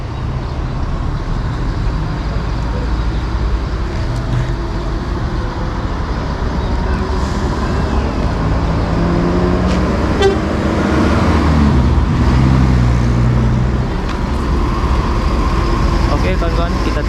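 A large coach bus pulls away from a terminal toward Jakarta, with a loud, steady engine rumble alongside horn toots and road traffic noise close by, and no talk.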